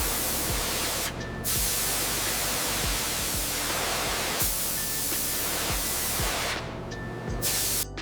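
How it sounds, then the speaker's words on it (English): Abrasive media blasting rust off steel bolts during a 1947 Indian Chief motorcycle restoration, a loud continuous hiss of spray that runs steadily through the whole stretch with brief pauses and small bumps. "Watch as the abrasive media strips away decades of rust, revealing the clean steel underneath."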